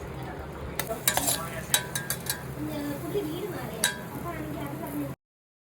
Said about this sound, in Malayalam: ഓക്കെ, ദെൻ നമുക്ക് നെയ്യ് ഒഴിച്ചു കൊടുക്കാം